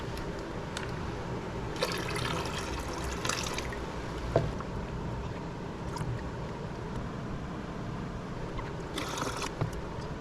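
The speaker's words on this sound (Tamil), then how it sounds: "அப்படியே ஸ்லோவாக தான் நம்ம ஏற்றணும் தண்ணியை." Water slowly poured into an aquarium fish tank holding channa fish, a quiet steady trickle with soft splashes and occasional gurgling bursts, heard close and alone.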